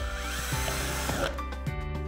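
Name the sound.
electric drill drilling holes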